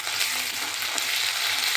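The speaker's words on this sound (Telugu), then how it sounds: "ఇందులో మనము 1 స్పూను అల్లం వెల్లుల్లి పేస్ట్ యాడ్ చేసుకోవాలి. బాగా వేగే వరకు," A spoonful of ginger garlic paste sizzles in hot oil in a pan for a biryani, giving a close, steady, bright frying hiss with light stirring scrapes throughout.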